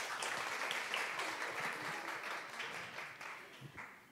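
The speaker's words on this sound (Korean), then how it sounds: "박수로 환영해 주시기 바랍니다" Audience applause welcoming a speaker at a Korean-language gender equality network activity presentation, a steady wash of many hands clapping at moderate volume that thins and fades toward the end, with no talk over it.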